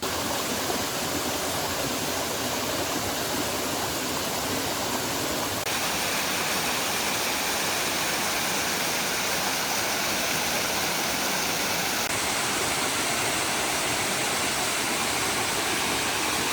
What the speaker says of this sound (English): I'm gonna see the waterfall from this side a little bit more